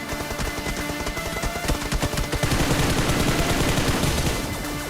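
Gunfire in the PUBG video game comes as dense, rapid bursts of shots, loud and continuous, with no talk over it.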